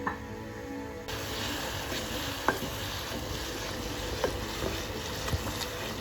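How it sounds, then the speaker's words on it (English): Jaggery syrup bubbling in a pan for adhirasam, a Tamil festival sweet, with lumps of jaggery still melting; a steady close simmering hiss runs throughout, broken by a few faint clicks and taps. "வெல்லம் போட்டு கொதிச்சுட்டு இருக்குதுங்க."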